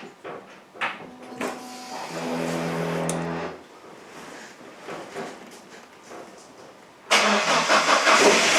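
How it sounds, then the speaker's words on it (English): A Saab 9-5 Aero engine cranks and catches after a fuel pump fuse is refitted, a steady starter whir giving way to a loud, close engine roar at the end. "reattach the fuse and try to start the car again to see that it works."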